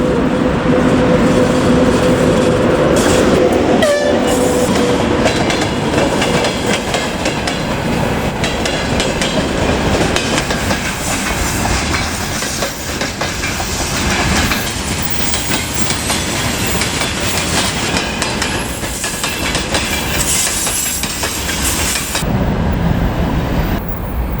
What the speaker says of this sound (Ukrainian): по першій колії, бачу, слідує вантажний поїзд